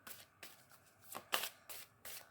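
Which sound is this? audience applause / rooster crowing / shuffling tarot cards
shuffling tarot cards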